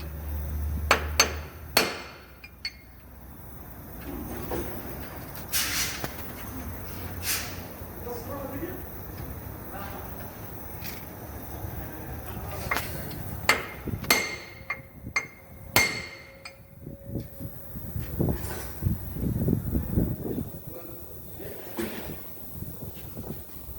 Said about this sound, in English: When hammering, make sure it just flash a bit.